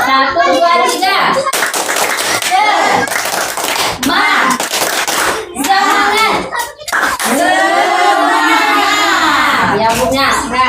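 A group of adults claps together in unison, loud and close, the rhythmic clapping mixed with cheering voices and talk, during a social welfare training session.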